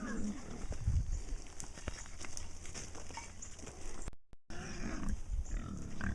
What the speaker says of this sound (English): That's part of pig language,